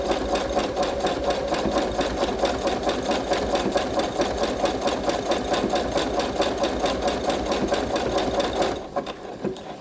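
A sewing machine stitches a bar tack, moving from straight rows into zigzag at a rapid, even mechanical chatter. The loud, close whir runs steadily and then slows and stops near the end.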